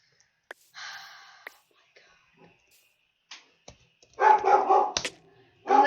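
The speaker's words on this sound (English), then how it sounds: "And there goes my dog." A dog barks indoors in a few short bursts, the loudest cluster near the end, among scattered clicks and a brief whisper-like voice.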